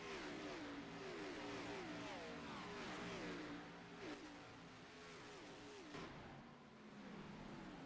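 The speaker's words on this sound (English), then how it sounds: "you're going to hear some shifting out of these Grand National cars" Grand National race car engines in a racing sim at Phoenix, revving hard with rising and falling pitch sweeps as gears shift repeatedly, several cars roaring together in a loud, continuous blend.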